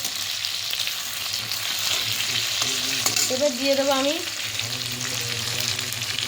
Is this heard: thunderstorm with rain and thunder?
no